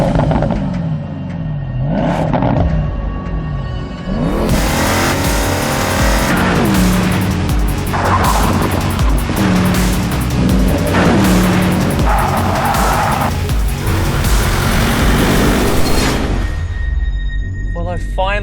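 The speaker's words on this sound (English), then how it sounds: "I finally get to get my hands on the new baby and listen to that engine." A 2019 Porsche Panamera GTS with its 460-horsepower engine driving hard, revving and accelerating through rising gear pulls with tire squeal, loud and close, with a voice talking over part of it.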